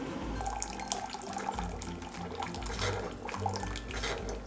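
Water trickles and drips from a Keurig 2.0 coffee maker after brewing, an irregular series of small splashes and a faint pouring over a low mechanical hum, close and fairly quiet.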